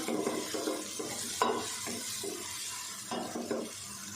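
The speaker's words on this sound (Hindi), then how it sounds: "प्याज को 1 से 2 मिनट हम पका लेते हैं।" Steady sizzle of onions frying in a pan, with occasional stirring scrapes and clinks of a utensil, close up and with no talking.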